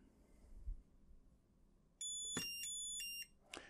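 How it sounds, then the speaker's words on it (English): After a soft thump, an EV Peak E6 battery charger gives a loud electronic beep for about a second, followed by a short click, close and with no talking. "You can hear the beep as it comes on"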